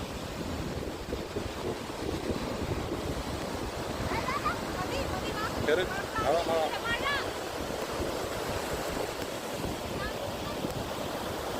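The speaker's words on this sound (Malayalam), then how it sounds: "നല്ല മഴ പെയ്തു തുടങ്ങിയിട്ടുണ്ട്" Rain falls at the seashore as waves surge and wind buffets the microphone in a loud, continuous roar, with faint voices briefly rising in the middle.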